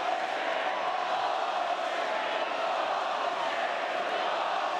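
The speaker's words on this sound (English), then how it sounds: "And here goes the Melbourne crowd letting you know about it" A Melbourne crowd at a Legends Football League gridiron game between Victoria Maidens and New South Wales Surge roars in a sustained, dense wash of jeering voices, loud and continuous throughout.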